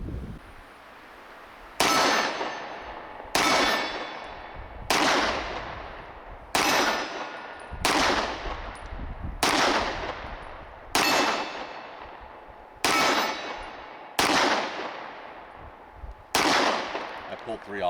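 A Kimber Custom LW 9mm 1911 pistol fires about ten evenly spaced shots outdoors, each a loud sharp crack followed by a ringing clang from steel targets that fades before the next shot.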